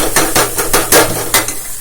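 Loud, close sizzling of dal tempering with asafoetida in hot oil, punctuated by a quick series of rhythmic scraping bursts.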